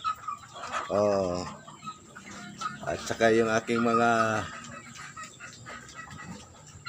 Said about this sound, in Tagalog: Kita mo maraming manok, oh.